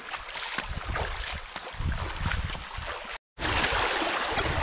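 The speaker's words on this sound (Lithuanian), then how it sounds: "Varom į vandenį." Someone wading into a shallow stream while out metal detecting: close, steady splashing and rushing water throughout, with one brief gap near the end.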